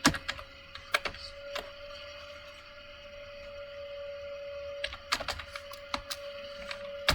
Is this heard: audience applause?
no